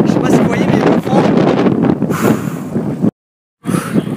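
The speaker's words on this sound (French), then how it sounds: "Je sais pas si vous voyez, mais le vent." Strong wind buffets the microphone while cycling, a loud roaring rush that cuts out briefly near the end, with a voice partly under it.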